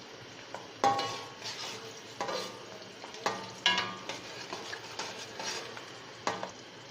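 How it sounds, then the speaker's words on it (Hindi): Sliced onions browning in a pan over a high flame for spicy chana pulao, with a steady soft sizzle under repeated scraping and clinking stirs of a spatula, close and fairly quiet, no speech. "अभी हम प्याज को ब्राउन करेंगे और फ्लेम करेंगे हाई"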